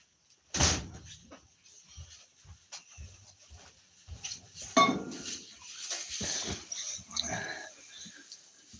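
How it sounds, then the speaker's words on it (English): A door shuts with one sharp slam near the start, followed by a quieter thump a few seconds later, amid rustling and indoor movement sounds with dogs around. "I'm going to shut the door"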